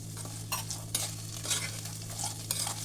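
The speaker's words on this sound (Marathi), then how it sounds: "खरपूस भाजून घ्यायचं आहे ते." Upma premix with carrots being dry-roasted in a pan, a utensil scraping and stirring in short strokes with a soft steady sizzle and a low hum underneath.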